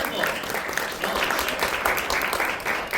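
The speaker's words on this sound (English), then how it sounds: "please give Sean a round of applause." Audience applause at a retail commercial safety and security workshop, a steady wash of clapping from a crowd that holds at an even level for the full stretch.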